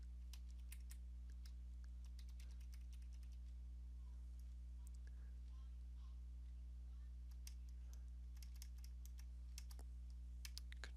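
Computer keyboard keystrokes while copying and pasting with Control C and Control V, heard as faint, scattered clicks in irregular bursts over a low steady hum, with no talking.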